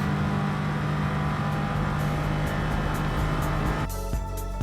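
A race car engine in a video game roars steadily on the Grand Valley Short Circuit, loud and continuous, with a sharp change in tone near the end as the car shifts or brakes.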